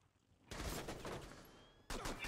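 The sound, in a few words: pistol gunfire in video game Rainbow Six Siege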